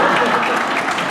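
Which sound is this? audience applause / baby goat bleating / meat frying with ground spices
audience applause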